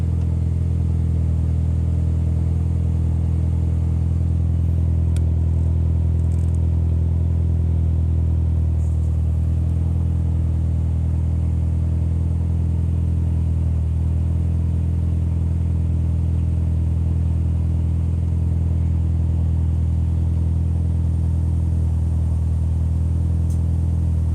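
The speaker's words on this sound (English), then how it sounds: "Watch the Yugo go through its boot up steps here." A Yugo car engine idles steadily through its startup, a loud, continuous low rumble with a constant hum and no voices.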